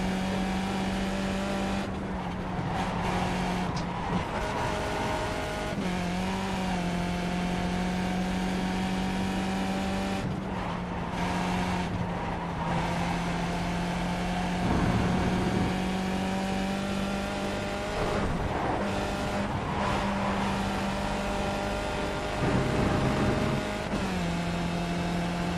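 A Skip Barber race car in the iRacing video game at Lime Rock, its engine droning steadily near and loud for the whole stretch, pitch rising and falling through gear changes and corners, with no talking.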